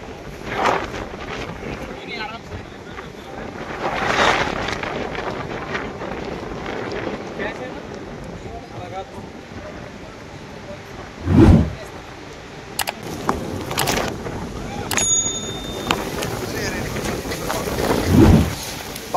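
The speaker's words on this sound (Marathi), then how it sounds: "वारा तर डेंजर आहे." Strong wind gusting across the Savlya Ghat mountain pass in Tamhini Ghat, a continuous roaring rumble buffeting the microphone with louder surges, while voices talk faintly in between.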